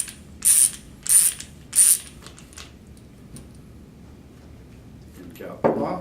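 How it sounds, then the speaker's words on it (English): A 1/2-inch drive stubby ratchet unscrews a suppressor end cap, giving three sharp, close ratcheting bursts in quick succession, followed by quieter handling noise and a brief clunk at the end. "Just unscrew the end cap."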